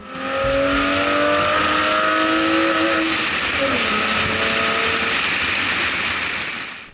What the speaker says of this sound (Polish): posłuchajmy jak bruczy ten 6 silnik, który miał 4 zawory na cylinder